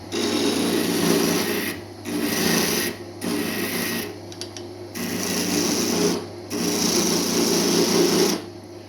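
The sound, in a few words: wooden blunt being turned on a medieval lathe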